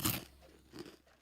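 Puffed breakfast cereal crunched between the teeth at close range: a loud crisp bite at the start, a quieter crunch about two-thirds of the way in, with no talking.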